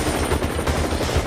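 A helicopter engine runs as the aircraft lifts off from a building's rooftop helipad at night, a dense, loud, continuous roar with a rapid pulsing chop and no voices.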